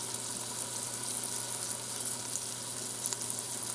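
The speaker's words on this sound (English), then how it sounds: "So yeah, see, it's sizzling away, and this gets pretty hot, and it stays on saute for about 30 minutes" Ground beef sizzling on the saute setting in a hot Instant Pot, a continuous, even crackling hiss at close range with no talking.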